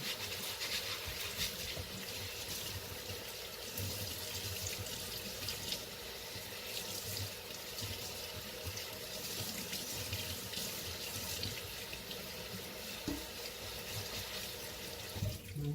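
Water runs steadily from a tap in a basement grow room, a faint continuous splashing hiss that lasts without a break, no talking.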